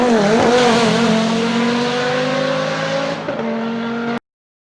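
An Audi coupé Group A race car's 2-litre five-cylinder engine screams at high revs, pitch dipping with a gear change then climbing again, loud and close before cutting off abruptly.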